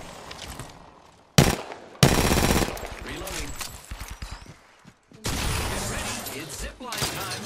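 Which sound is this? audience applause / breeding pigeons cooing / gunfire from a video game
gunfire from a video game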